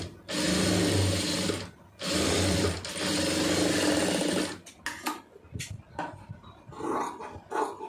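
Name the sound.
sewing machine stitching fabric neckline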